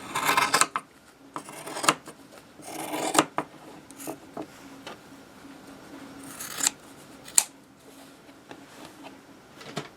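Scissors snip through fabric for a child's purse in a series of close, crisp rasping cuts with brief pauses between strokes, alone without talk.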